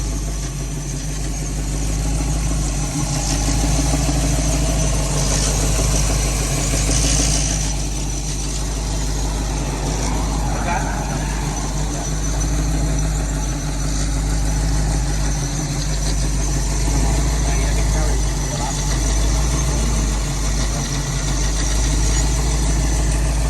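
A car engine idles steadily, a loud constant low rumble throughout, while a cooling fan gradually begins to come on and adds a faint rising whoosh, with no talking.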